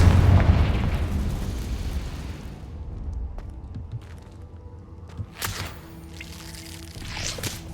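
A Confringo fire spell explodes in Hogwarts Legacy with a loud, dense booming burst that rumbles for a couple of seconds, then decays into quieter crackles and scattered pops.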